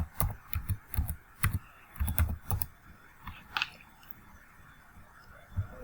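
Keys clack on a computer keyboard while Python code is typed, in short irregular bursts of close, crisp taps with pauses between.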